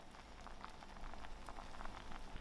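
A jam of frozen mixed berries boiling in a pot, with soft, quiet bubbling and popping like light rain, steady and close throughout with no talking.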